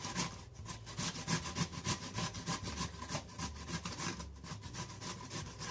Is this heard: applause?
no